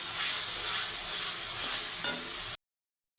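Ground chillies, turmeric, Kashmiri chilli powder and spices fry in a pan with a steady, close sizzle and faint stirring scrapes, then cut off abruptly into silence near the end.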